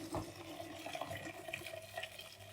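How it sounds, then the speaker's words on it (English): Freshly boiled water poured into an EasiYo yogurt maker jar, filling to a line: a faint, brief trickling and splashing with small clinks. "you've got your freshly boiled water, and you're going to pop your boiled water up to that red line"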